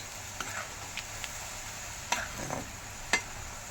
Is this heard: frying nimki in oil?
yes